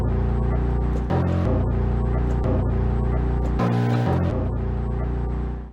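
A deep, growly bass sample pitched down one octave pulses in a looping, chopped pattern, thick and loud, with short pauses between phrases before fading at the end.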